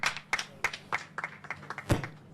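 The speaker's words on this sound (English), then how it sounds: "A round of applause for him, please" A small audience at a census results announcement gives a short round of scattered hand claps, near and fairly faint, with no talking over it.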